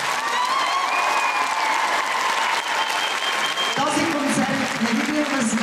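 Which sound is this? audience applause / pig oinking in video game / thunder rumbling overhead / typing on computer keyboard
audience applause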